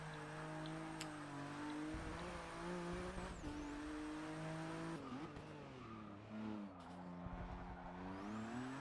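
Ford GT LM race car in Forza Motorsport 6 sliding out of a corner, its engine droning steadily with pitch sweeps and a sharp shift near the middle, tire noise underneath, loud and continuous throughout.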